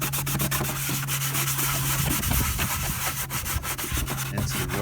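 A steady, close scrubbing rasp as fluid is worked into rust on a custom Traxxas Slash RC car body, continuous rubbing strokes with no talking.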